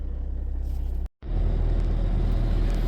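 Toyota Avensis T25 engine idling at raised revs with the demist on: a steady, rhythmic low rumble with pulsing firing beats, cut by a brief dropout of about a tenth of a second, then resuming louder and fuller.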